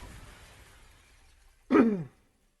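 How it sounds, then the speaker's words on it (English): Glass shatters in a video game event scene: one sharp, loud crash that rings briefly and cuts off, following a quiet low ambient bed. "A crack of shattering glasses cuts through the calming chimes of the comfort bells."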